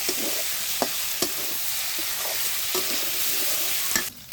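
Water poured over potatoes frying in a pan, loud continuous sizzling with a few sharp clicks of a spoon stirring against the pan, and no voices.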